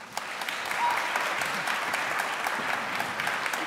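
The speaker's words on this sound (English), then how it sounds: "So give Claire Warner a big round of applause" An indoor audience applauds a panel host at a talk event, with steady, even clapping that holds at a moderate level for several seconds and no voices over it.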